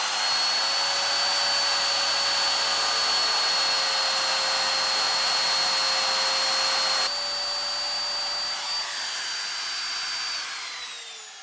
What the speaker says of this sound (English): I've scored around with a sharp blade, and now I'm just going to route out